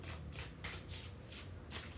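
Tarot cards being shuffled by hand in a few quick riffling bursts, each a soft papery rush, close and fairly quiet, with no talking.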